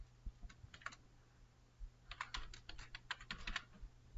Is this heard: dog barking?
no